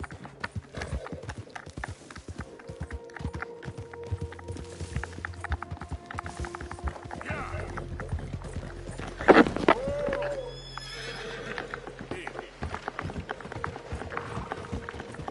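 A video game horse gallops with rapid rhythmic clip-clop hoofbeats throughout, then gives a loud whinny about two-thirds through before the hooves carry on, over a low game soundtrack.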